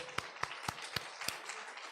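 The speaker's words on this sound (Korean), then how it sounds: "자, 박수하겠습니다." A few distinct claps ring out in a steady rhythm during a Sunday church service, moderately distant and fairly quiet, five or six sharp hits over about two seconds.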